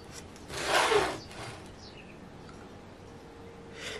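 A knife cuts deep into a frozen dessert, making a short, close scraping rasp that rises and fades within about a second, followed by fainter scrapes.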